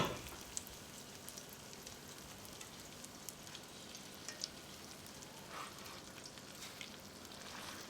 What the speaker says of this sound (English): Then you're just going to let this start frying and browning on each side.